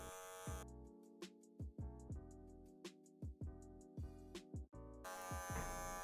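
An electric hair clipper buzzes in short bursts as it cuts hair using the clipper-over-comb method during a taper fade, its steady drone stopping and restarting with brief gaps, close and alone.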